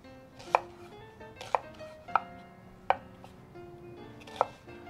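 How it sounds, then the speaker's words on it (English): Knife cutting an onion into strips on a cutting board, six crisp, evenly spaced chops close up with quiet pauses between, no voices. "Now, for the onion, I'm going to cut parallel to the straight end. And I'm going to make strips."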